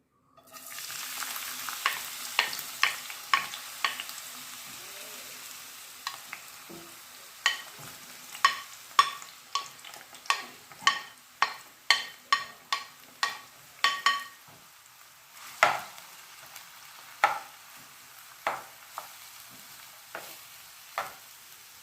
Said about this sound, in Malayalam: ഇനി ഇതെല്ലാം കൂടെ ഞാൻ ഈ ചൂടായ എണ്ണയിലേക്ക് ഒരുമിച്ചങ്ങ് ഇട്ട് കൊടുക്കുക.